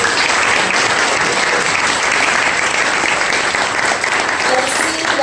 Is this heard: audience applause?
yes